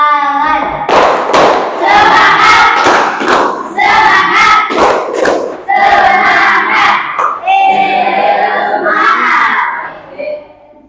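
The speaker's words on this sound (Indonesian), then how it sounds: "tepuk tangan luar biasa" Students in a classroom ice-breaker clap loudly in rhythmic bursts while chanting together in young voices. The sharp, near claps come in repeated patterned groups separated by short pauses, then fade at the end.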